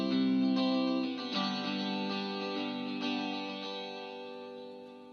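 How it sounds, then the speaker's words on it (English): Sustained music chords edited in Premiere Pro carry a reverb tail, the rich tones shifting a few times before fading slowly as the echo lingers. "Nice little reverb at the end of that."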